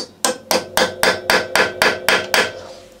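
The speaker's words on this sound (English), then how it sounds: "That's not going to go, so I'm going to hammer it here as well." Nine sharp metallic hammer strikes on a Kawasaki KH125 engine part in a steady, even rhythm, loud and close, each ringing briefly before the next blow.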